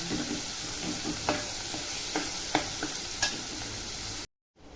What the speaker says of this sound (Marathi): आता कांदा टाकते एक मोठा कांदा घेतलेला आहे मी कांदा पण बघा छान असा परतून घ्यायचा